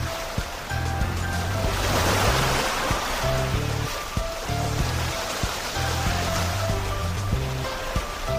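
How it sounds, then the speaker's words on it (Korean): Ocean waves wash onto a sandy beach in a steady, rushing surf, with light background music playing over the water. "기분 좋은 파도 소리가 들려왔어요."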